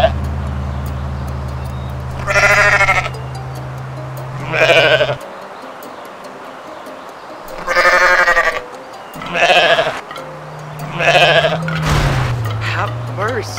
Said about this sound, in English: that a goat?